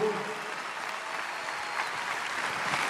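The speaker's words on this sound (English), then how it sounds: "You guys are clapping" Audience applause at a stand-up comedy show, a steady wash of clapping from a live crowd holding at an even level throughout, with no pause.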